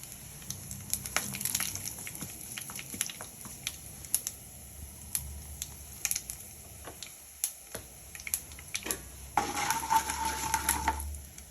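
Urad dal splutters in hot oil while tomato chutney is being cooked, sharp scattered pops and crackles from a pan with a denser sizzling burst toward the end.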